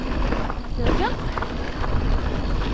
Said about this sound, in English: my brakes made a horrible noise then